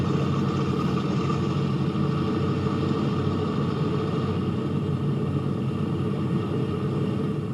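Several B-17 bomber engines of the Memphis Belle drone in a continuous, heavy low rumble, loud and even throughout with no voices over it.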